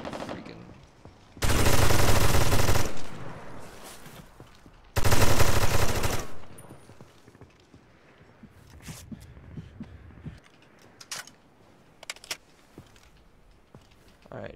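Two long, loud bursts of automatic gunfire from the military shooter video game America's Army, followed by scattered fainter shots and footsteps, with a player talking between the bursts.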